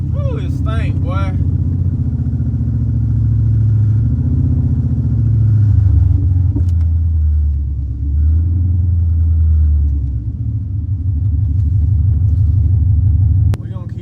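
A 2015 Chrysler 300 with a Hemi V8 and BBK long tube headers idles and revs with a loud, deep, continuous rumble close by, the pitch rising and falling through several revs.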